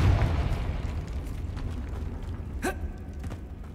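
A Confringo fire spell explodes in Hogwarts Legacy, a deep boom at the start that rolls off into a low, fading rumble, with a brief rising whoosh near the end.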